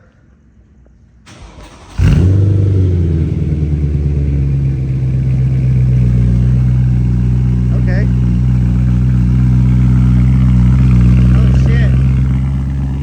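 A BMW E92 M3 fires up with its Bomiz valved exhaust open, a loud catch at about two seconds settling into a steady, deep, rumbling idle close by, with brief talk from people nearby.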